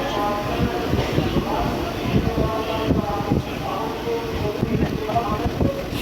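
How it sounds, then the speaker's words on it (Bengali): A passenger train rolls along just after pulling out of Howrah station, with a steady rumbling, rattling carriage noise heard from inside the coach and faint voices underneath. "হাওড়ার থেকে ট্রেনটা ছেড়ে দিয়েছে।"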